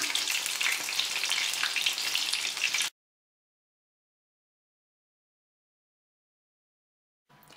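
Stuffed courgette flowers fry in a pan, a loud, dense sizzle for about three seconds. It then cuts to silence, and a faint sizzle returns at the very end.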